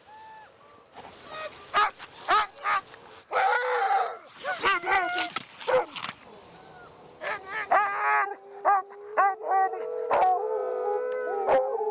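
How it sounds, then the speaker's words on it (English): Sled dog teams on an expedition across a vast ice sheet bark, yip and howl together in a busy, overlapping chorus, with rising howls drawn out toward the end; the pack sounds close and fairly loud. "we get to feed the dog teams"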